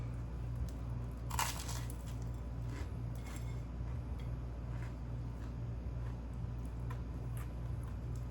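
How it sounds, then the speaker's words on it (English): Crunchy bites into toasted sourdough bread topped with egg salad, several crisp crackles near the start and a few softer ones later, over a steady low hum with no talking. "The bread gives it a nice crunch."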